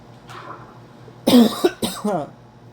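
Two close, forceful coughs in quick succession, rough and throaty, after a stretch of quiet room noise.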